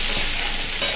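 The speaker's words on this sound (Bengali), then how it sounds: "এই যে ফুলকপি আলু ভাজা এখানে" Cauliflower and potatoes fry in a hot pan in a home kitchen, giving a steady, close hiss and crackle of sizzling oil with no talking.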